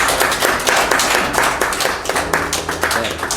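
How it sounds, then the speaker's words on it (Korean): A church congregation at Sunday worship claps to welcome a visiting guest, loud, dense, continuous applause that stays steady throughout. "박수로 환영하겠습니다."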